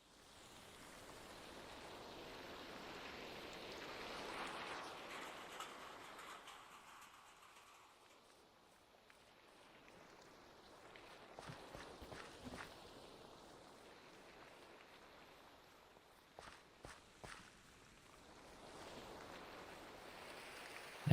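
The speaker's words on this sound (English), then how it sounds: "the rain sounds are quieter when you're undercover, and they can become really loud when you're out in the rain" Rain in a cozy building video game, a steady broadband hiss that swells louder and softens as shelter changes, with brief crackling bursts in the middle and no talk.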